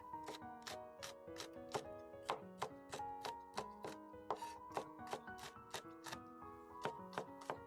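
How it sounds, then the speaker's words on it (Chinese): A knife chops small red chili peppers into rings on a board, giving a steady run of sharp, close knocks about two or three per second, with light ringing from the blade between strikes. "小米椒给它切成圈"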